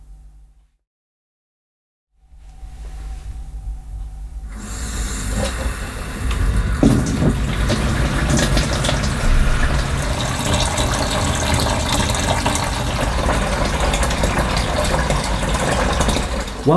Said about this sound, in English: first thing to do is fill this machine with warm water.